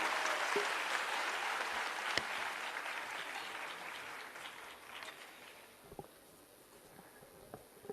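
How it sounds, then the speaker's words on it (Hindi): Loud applause from the audience at a state-level award ceremony for World Disability Day welcomes the chief minister, with dense clapping for about five seconds before it thins into a few scattered claps. "जोरदार तालियों के साथ स्वागत"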